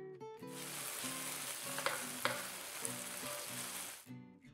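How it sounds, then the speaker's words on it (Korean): Burger sauce of vinegar, soy sauce and ketchup, seasoned with salt and pepper, reducing in a pan, a loud continuous sizzle with faint spoon clicks over a musical background, no speech. "식초와 간장, 케첩을 한 스푼씩 넣고 소금, 후추 간을 한 뒤 2분 정도 더 줄여줍니다"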